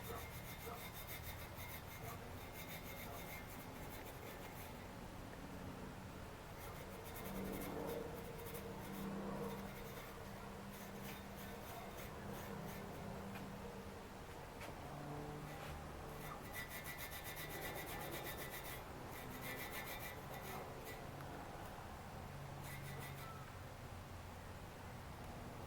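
A fingernail scrapes into the corners of a part during assembly of a 4.2 engine, making a soft, steady rubbing and scratching that is faint and close and carries on without pause.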